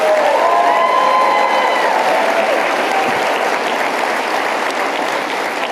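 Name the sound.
audience applause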